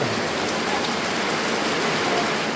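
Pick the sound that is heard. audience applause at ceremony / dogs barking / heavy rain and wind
heavy rain and wind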